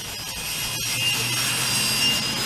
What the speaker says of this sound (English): I'm gonna sand all this purple off also.